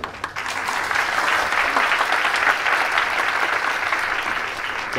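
Wrestling crowd at a tag-team match applauding a bout, a dense, loud, sustained burst of clapping that rises quickly and holds steady for several seconds.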